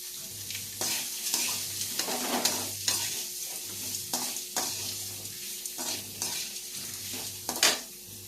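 Beetroot, onion, tomato, urad dal, chana dal, dried red chillies and curry leaves sauté in a pan for chutney, a close sizzle broken by repeated rhythmic scrapes and stirs of a spoon against the pan.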